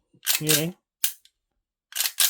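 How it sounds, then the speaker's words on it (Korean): A full-metal miniature AK-47 model gun gives a few sharp metallic clacks as its charging handle is pulled back, close and crisp, with someone talking around the clicks. "장전 손잡이를 당기는 바로 그 느낌입니다"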